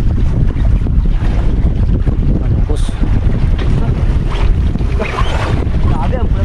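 Strong wind buffets the microphone aboard a fishing boat out at sea at night, a loud steady roar with water and surf noise beneath and faint voices now and then.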